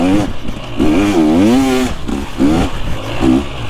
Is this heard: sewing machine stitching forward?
no